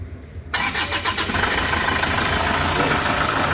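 An Isuzu Traviz diesel engine, suspected of blow-by, cranks briefly and bursts into life, then settles into a loud, clattering idle close by.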